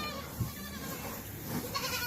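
Goats on a Pakistani goat farm during feeding and milking, with a few short bleats rising over a steady farmyard background, one near the start and another later on, fairly faint and with no talk.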